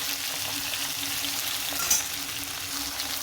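Potatoes and bitter gourd sizzle in a pan of hot oil, a steady close crackle with soft stirring sounds and one brief clink partway through.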